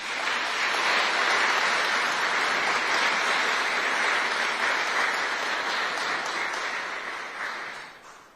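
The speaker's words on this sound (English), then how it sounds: "Please give them all a round of applause." An audience at a Buffalo Soldiers National Museum ceremony claps in sustained applause, a dense steady roar of many hands that holds for several seconds before fading out.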